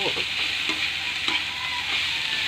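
Banana heart sautéed with garlic in a pan gives a steady, close hiss of frying, with a few soft scrapes and taps from stirring breaking through the sizzle.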